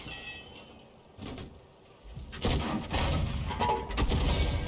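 A tank shell striking the turret of a Churchill tank in a video game: a muffled impact thud followed by a loud, sustained rumbling crash and debris-like noise that continues to the end.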